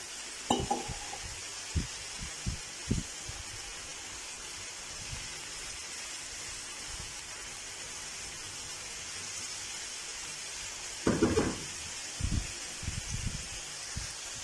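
Onion and potato frying in a pan over raised heat give a steady, soft sizzling hiss throughout, broken by a few light utensil knocks near the start and again toward the end.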